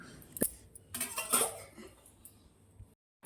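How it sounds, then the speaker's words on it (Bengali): Someone washes pots and utensils outdoors, metal dishes clinking and clattering in a few sharp bursts against a quiet background, with a brief cough-like sound and no talk. "মা এখনও যেন বাইরে বাসন কোসনগুলো ধুচ্ছে"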